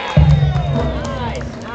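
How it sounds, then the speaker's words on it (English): Crowd on Main Street, USA at Magic Kingdom cheering and applauding a band's dancers outdoors, a loud mixed swell of voices and cheers with a strong low rumble, steady across the short moment. "And how about a big round of applause for our band dancers?"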